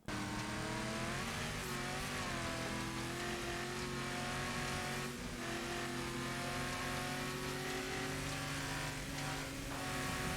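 A race car engine in the racing game Wreckfest roars continuously at high revs, with pitch dips and rises as gears shift up and back down, loud and steady throughout with no talk.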